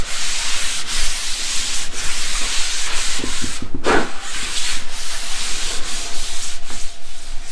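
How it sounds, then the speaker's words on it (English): A tack cloth rubs over sanded wood before a wipe-on polyurethane finish, a steady close-up swishing rub that continues unbroken, with a brief louder scuff midway and no voices. "We're going to tack cloth this thing."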